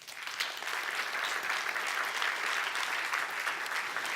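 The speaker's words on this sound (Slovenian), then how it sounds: "Vsekakor pa si vsi sodelujoči letos zaslužijo še en velik aplavz." An audience claps steadily through the whole stretch at the close of a Slovenian community partnership programme round, a dense and even wash of many hands at moderate loudness with no voices over it.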